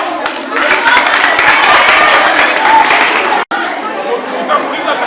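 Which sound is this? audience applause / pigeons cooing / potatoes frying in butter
audience applause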